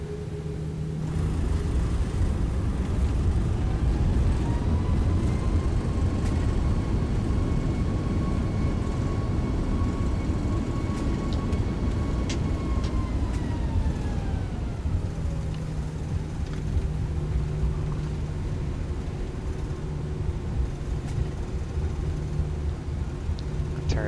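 Steady roaring rush of an A340-600's thrust reversers during landing rollout in X-Plane 11, loud and continuous, with a whining engine tone that swells and then winds down midway.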